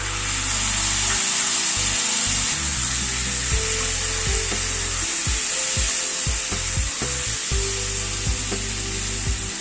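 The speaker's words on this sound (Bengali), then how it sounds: "টমেটোটাকে আগে একটু কষিয়ে নেব" Tomato paste frying over a low gas flame with potato and papaya for a curry, a bright steady hiss with repeated scraping and knocking spatula strokes.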